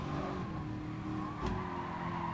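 Race cars in a racing video game, with engines droning steadily at close range and a brief sharp scrape as the cars slide off the track.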